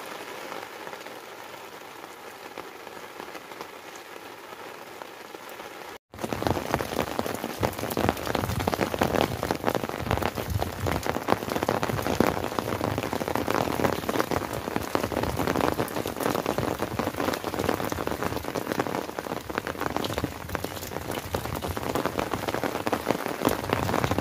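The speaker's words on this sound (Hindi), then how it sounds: "ये बारिश की प्यारी सुबह सुबह रिमझिम।" Morning drizzle falls in a village in Punjab, Pakistan, a soft hiss at first, then after a brief gap a denser, louder patter of drops on surfaces that carries on steadily.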